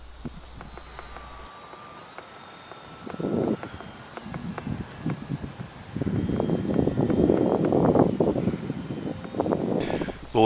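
Stevens Aeromodels 4Charlie RC model airplane in flight, its engine whine rising and falling as it passes, growing louder and nearer toward the end, with steady outdoor background noise.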